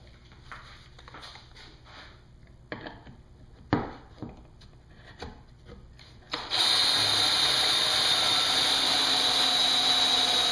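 A drill driving pocket screws into wood boards for a pedestal extension table, first scattered clunks and knocks of handling and positioning, then a sudden loud steady drill whine running continuously to the end.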